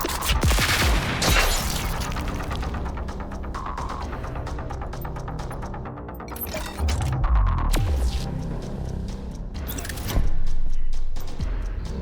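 Gunfire and crossbow bolts sound in the Dead in Antares video game: sharp bursts, rattling shots and heavy thumps over a throbbing mechanical hum, loud and alone with no talking.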